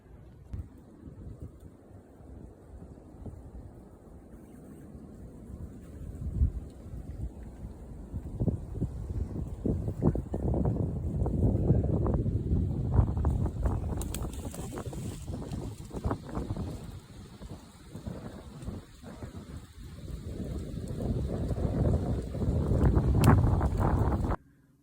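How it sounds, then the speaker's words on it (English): Strong gusting wind on a blustery day of Pennsylvania whitetail hunting buffets the microphone outdoors with rumbling, uneven bursts of wind noise that build and ease repeatedly, growing loudest near the end. "The wind is absolutely killer."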